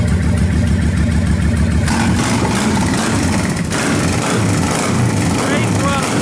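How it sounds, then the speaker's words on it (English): Steady, loud idle of a 2007 Honda Shadow 1100 Spirit V-twin motorcycle engine, running continuously and close by, with someone talking over it. "This sounds like a V-twin is supposed to sound. It idles wonderfully."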